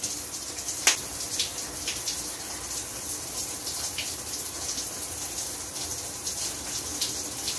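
Shower water runs steadily and evenly at close range, a continuous broadband hiss with a few small splashes and no speech.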